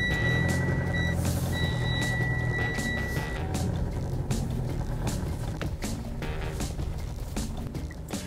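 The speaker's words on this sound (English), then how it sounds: "Parking sensors are working great." Parking sensor beeps from a Mitsubishi L200 Barbarian X pickup sound as steady high tones, first in short pulses and then held longer, over a low engine rumble and road noise.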